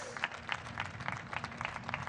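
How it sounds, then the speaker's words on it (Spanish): Audience applause at an outdoor commemoration of the 205th anniversary of the Battle of Boyacá, moderately distant with distinct claps in a loose rhythm under a faint steady hum. "que retumben los aplausos"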